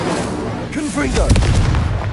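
Confringo blasting curse exploding in a Harry Potter video game: a short, loud, booming burst that follows a brief shouted voice and rumbles on to the end of the clip.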